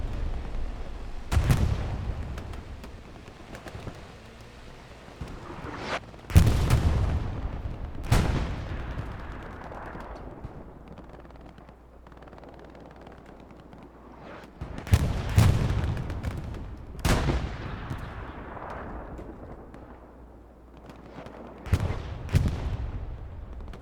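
Artillery shells exploding during a Hell Let Loose match on the Omaha Beach map, several heavy booms at irregular intervals that swell out of a constant rumble of distant battle, with some impacts landing close and loud.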